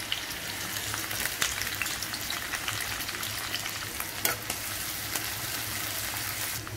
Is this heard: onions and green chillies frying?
yes